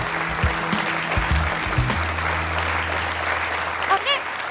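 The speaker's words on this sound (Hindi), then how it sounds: "तालियां!" Applause opening a grand New Year celebration, a steady wash of clapping over low tonal background sound, with a brief bright chime near the end.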